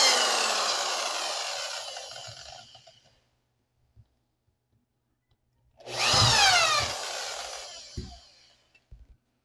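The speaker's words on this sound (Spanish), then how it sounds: "Tomaré el taladro con una barrera de 1/8 y voy a perforar donde hice las marcas." A power drill fitted with a 1/8 bit bores holes at marked spots, two loud whirring bursts separated by a quiet pause, each rising then trailing off, with a few small knocks between them.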